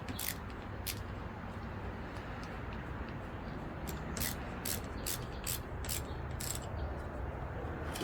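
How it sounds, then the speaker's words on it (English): A nut is screwed onto a bimini top mount, sounding as a series of sharp ratcheting clicks spaced irregularly over a steady low background noise, close and fairly quiet. "I'm going to put another one of those nuts on, and you're going to screw it in."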